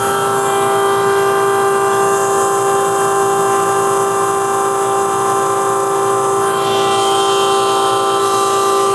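A 632ci big-block Chevy nitrous drag-racing engine runs at a steady high speed: a loud, sustained, strongly tonal drone that holds constant throughout, with a slight shift in pitch near the end and no voices.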